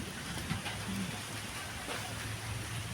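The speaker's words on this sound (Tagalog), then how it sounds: "It's raining already." Steady outdoor rain falls in a soft, even wash with no distinct drops or thunder, a continuous moderate hiss throughout.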